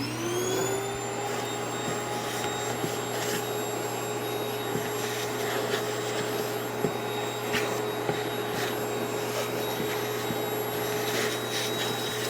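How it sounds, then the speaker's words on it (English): A vacuum cleaner runs steadily throughout, a loud constant motor whine with a high pitched tone, occasional rattles and bumps from the nozzle. "I vacuum it up a bit so I don't get it all over the floor."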